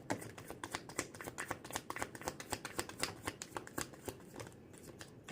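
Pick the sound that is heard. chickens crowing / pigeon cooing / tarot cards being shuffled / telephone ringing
tarot cards being shuffled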